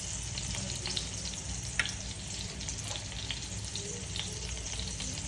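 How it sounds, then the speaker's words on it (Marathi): Cumin and mustard seeds temper in hot oil with a soft, continuous sizzle and scattered tiny pops, heard fairly faint and close. "ते जिऱ्या मोहरीची फोडणी देऊन त्यात टाकून घ्यायचं"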